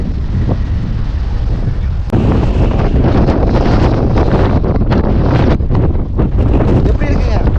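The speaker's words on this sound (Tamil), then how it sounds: "உண்மையாலுமே காற்று வந்து பார்த்திங்கன்னா பயங்கரமாக அடிக்குதுங்க." Strong wind at the Uchilakuth mountain viewpoint in Idukki, buffeting the microphone in loud, continuous roaring gusts that grow harder after the first two seconds.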